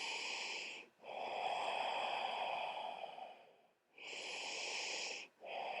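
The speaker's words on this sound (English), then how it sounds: "2 more enormous breaths here." Slow, deep breaths during a yoga glute-strengthening session, each long airy inhale or exhale separated by short pauses, close and quiet with no talking.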